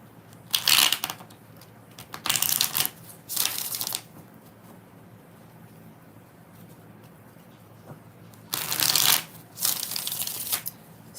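Tarot cards are shuffled in several quick bursts of riffling and sliding, close and crisp, separated by quiet pauses, with no talking over them.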